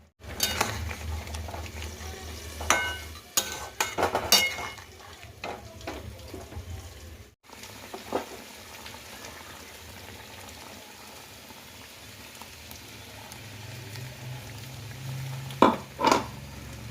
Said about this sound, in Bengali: এখানে আমি মাছ ভাজতে শুরু করে দিয়েছি মাছের ঝোলের জন্য